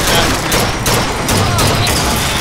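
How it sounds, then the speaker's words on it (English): Rapid volleys of gunfire in BioShock Infinite, loud and sustained, with bursts of shots overlapping in a dense, continuous barrage with no pauses. "So clearly I am being shot at somewhere."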